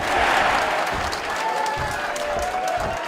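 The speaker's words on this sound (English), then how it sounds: "Listen to the crowd." A crowd at a cage fight keeps up a loud, dense mix of clapping and cheering, with voices shouting through it.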